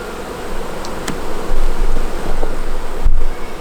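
Honey bees hum in a dense, steady buzz at an open hive with laying workers, close and fairly loud, with a few brief clicks and knocks over the swarm drone and no talking.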